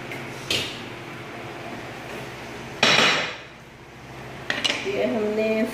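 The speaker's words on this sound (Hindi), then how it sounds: "कुकर को करेंगे बंद" A pressure cooker lid is closed while making mandi at home, with a few distinct metallic clanks and a scraping clatter of pot and lid against a low kitchen hum, and a voice at the end.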